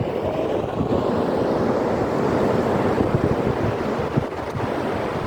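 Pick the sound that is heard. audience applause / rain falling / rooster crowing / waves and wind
waves and wind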